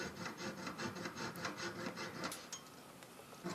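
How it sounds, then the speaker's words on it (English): Fine metal file scraping back and forth over a small soldered metal piece during jewelry-style cleanup, a steady run of short rasping strokes close up with no talking. "A little bit of cleanup with an incredibly fine file."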